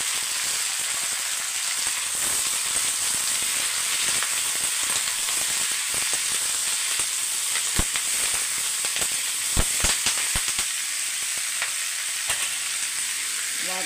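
Tomatoes and curry leaves sautéing in a pan for a sardine and raw mango curry give a steady, close frying sizzle and hiss, with scattered spoon scrapes and clicks near the end and no talking.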